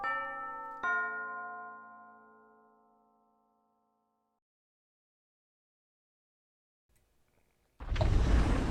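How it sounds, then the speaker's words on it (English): A school bell in the video game Hakuoki SSL rings as a bright two-tone chime struck twice, each tone lingering and fading into silence before a short burst of rustling noise. "the bell rang and the door opened."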